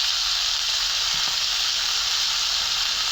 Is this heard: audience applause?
no